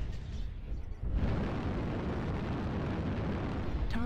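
A destroyed mech explodes in MechWarrior Online, a sudden blast that breaks into a sustained roaring, crackling rumble lasting several seconds, moderately loud and alone.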